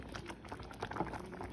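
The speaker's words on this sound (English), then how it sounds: "Just brought you in to see the rice. It is boiling and it's been boiling for about" Rice boiling in a pot on the stove, a steady close bubbling and patter that runs the whole time with no voices.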